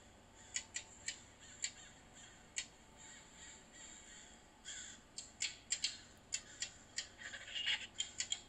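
An angry bird in the VR horror game Face Your Fears caws over and over, harsh and close. The calls start sparse, then come in quicker bursts toward the end over a quiet background.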